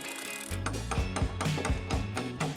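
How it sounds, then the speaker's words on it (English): A ratchet wrench tightens nuts and washers on a gazebo frame, giving a run of quick clicking bursts in steady rhythm, close and fairly loud, with no talk. "Let's get those nuts and washers on, otherwise lunch is off."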